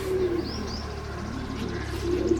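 Pigeons coo and small birds chirp on a four-acre homestead in Pakistan, a soft cooing call near the start and again at the end with brief high chirps between, over a steady low rural hum.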